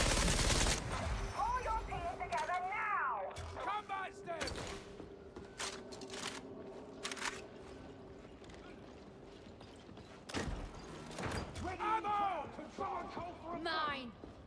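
Guns firing in Warhammer 40,000: Darktide, a series of sharp shots and bursts with a steady mechanical hum beneath, broken up by talk between the firing.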